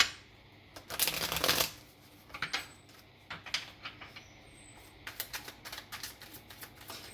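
A deck of tarot cards is shuffled close by in quiet, crisp bursts of riffling and flicking, with brief pauses between handfuls and a faint, soft room background.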